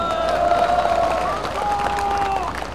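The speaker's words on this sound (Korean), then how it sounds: "나를 위해서 박수하지 말고, 그래도 선관위의 동지들을 위해서 한번 박수해 주시기 바랍니다" A crowd at a political rally in Busan claps and murmurs, with voices calling out over the applause in a short, lively burst.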